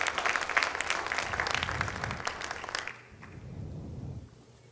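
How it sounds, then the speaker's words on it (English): Audience applause at a Bengali classical dance recital, a dense wash of clapping from a large crowd that swells and then fades to a softer patter near the end. "can we please have another round of applause for her dedication and everything"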